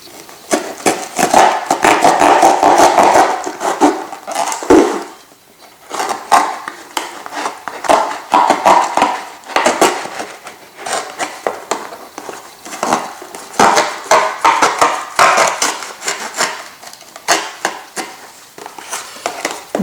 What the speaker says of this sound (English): So I will cut with this knife.